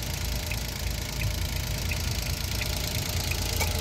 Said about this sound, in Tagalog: Turbo ang unit na ito. Napakaganda ng kanyang engine.